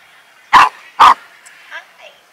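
A dog gives two loud, sharp barks half a second apart at a van-camping vineyard, followed by a few softer yips and whimpers, with no talk over them.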